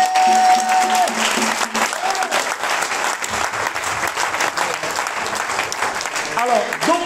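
A church congregation at an Easter service in Abidjan breaks into loud, sustained applause to acclaim the Lord, with clapping and voices filling the room throughout while someone speaks over it.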